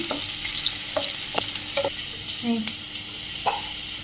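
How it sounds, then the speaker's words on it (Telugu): Chopped medium onions fry in oil with a steady sizzle, while a spoon stirs and clinks against the pan at intervals close by. "ఆనియన్స్ కొంచెం బ్రౌన్ కలర్ వచ్చే వరకు ఫ్రై అవనిద్దాము"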